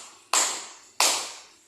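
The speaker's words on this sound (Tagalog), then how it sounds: "Bigyan ng 3 palakpak ang inyong mga sarili." A classroom gives two sharp rounds of clapping, each a sudden burst that fades over about half a second, fairly faint and with no talk.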